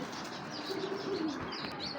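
A female racing pigeon in a loft gives soft, low cooing with faint wing flutters, close by and fairly quiet, with someone talking over it.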